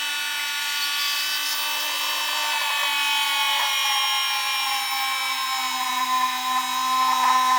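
A Parkside PMGS 12 D4 rotary engraving tool drills a point into hard ceramic, giving a steady high-pitched whine that stays loud and close throughout.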